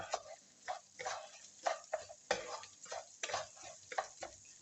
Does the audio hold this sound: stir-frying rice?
yes